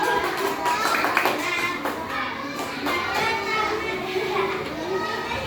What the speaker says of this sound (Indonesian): Kasih tepuk tangan dulu buat Aurel.